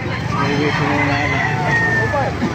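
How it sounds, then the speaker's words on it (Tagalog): Roosters crow and chickens cluck among fowl at a Baliuag market, the crowing calls standing clear above a busy backdrop of nearby talk and market noise. "Ang ganda ng mga manok oh"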